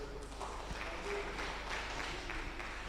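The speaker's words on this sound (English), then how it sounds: "Let's clap for the teacher." A conference audience claps for a lecturer, a dense, steady patter of applause that holds at an even level throughout, with some murmuring voices mixed in.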